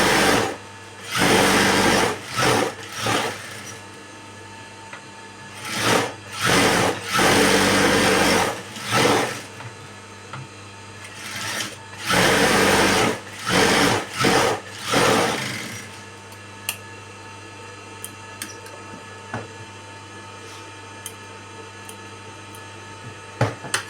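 A sewing machine stitches a patchwork blouse in several loud, close bursts of rapid mechanical whirring separated by short pauses, then falls to quiet handling noise for the final stretch.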